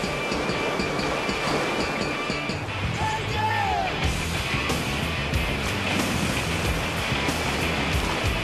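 Ocean waves break along the coast in a steady, loud wash of surf, buffeted by wind noise across the microphone, with faint voices mixed underneath.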